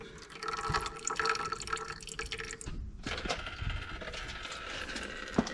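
Old fluid dripping and trickling out while the lines are flushed, a faint, steady wet patter with small splashes throughout, close by and with no talk.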